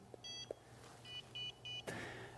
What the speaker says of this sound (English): I'll get a tiny little beep that'll let me know it hasn't shown up